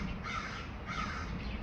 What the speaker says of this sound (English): Caw, caw, caw. I want to see what the crow has to say.